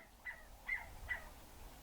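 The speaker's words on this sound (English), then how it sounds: "That's quail, by the way, that chirp," A quail calls three times in a steady rhythm, short bright chirps spaced evenly over quiet background hiss.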